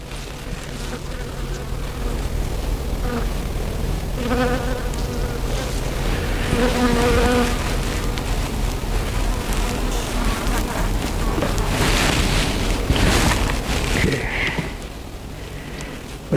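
Honeybees buzzing around an open hive during an inspection, a dense, steady swarm hum close by with shifting pitch and occasional louder passes.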